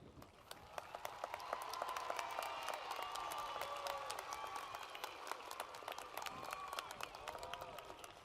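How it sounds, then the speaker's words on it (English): A high school graduation audience applauds the honor graduates, a large crowd clapping continuously with some cheering mixed in, reverberant and fairly distant, swelling slightly then holding steady. "Will this group please stand and be acknowledged with a round of applause?"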